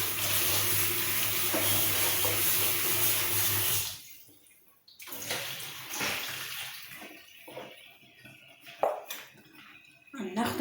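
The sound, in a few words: washing an item under running tap water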